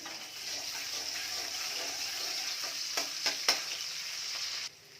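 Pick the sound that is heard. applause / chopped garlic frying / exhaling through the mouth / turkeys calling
chopped garlic frying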